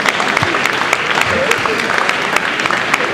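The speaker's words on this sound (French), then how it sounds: "Voilà, on vous applaudit." Audience applause at the Utopiales 2010 festival: a dense, steady patter of clapping fills the room for about three seconds, with a few voices mixed in.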